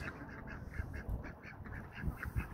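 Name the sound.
ducks quacking in a barnyard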